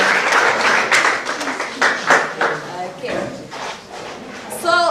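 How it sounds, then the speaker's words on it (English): A school audience at a secondary school event claps in a short, uneven burst of applause for a student, with voices and shuffling mixed in and a brief tonal sound near the end. "Can you give her a round of applause?"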